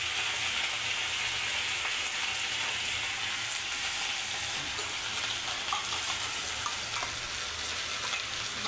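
Methi bhaji leaves and finely ground masala sautéing in a pan, giving a steady, close sizzle of frying with faint stirring scrapes, continuous and even throughout.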